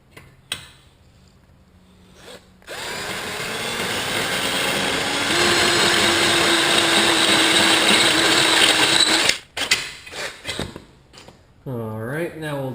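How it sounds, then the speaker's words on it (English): A power drill bores out a steel flap on a Cadillac CTS-V subframe, its steady whine starting after a few seconds and running loud and close before cutting off, with talk around it. "So we're going to drill that out."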